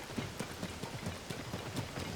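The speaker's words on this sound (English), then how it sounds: "Oh, horses. I thought that was a person." Horses' hooves clip-clop steadily in Zelda: Tears of the Kingdom, a regular run of crisp, moderately loud strikes repeating for about two seconds with no voices.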